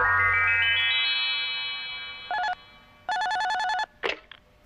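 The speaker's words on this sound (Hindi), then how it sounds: "सुनियो, तुम्हारे लिए नोबिता का फोन है।" A telephone in a Doraemon cartoon rings with a rising electronic tone, followed by two bursts of a trilling bell ring, loud and close, then a brief clatter.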